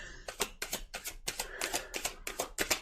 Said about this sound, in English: I'll go over all these cards when I'm done shuffling